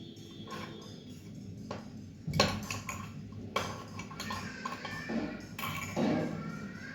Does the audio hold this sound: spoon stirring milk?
yes